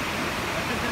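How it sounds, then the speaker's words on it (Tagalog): Dense, roaring wash of heavy rain pouring down, loud and continuous for the whole brief moment. "Ganda ng buhos ng ulan, eh."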